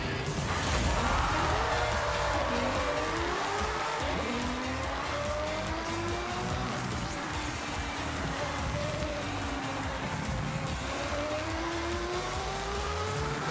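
Nissan Skyline, 400 horsepower R class, racing around Suzuka circuit in the Forza video game: a steady engine drone with rising and falling gear-shift tones and occasional tire squeal, loud and continuous throughout.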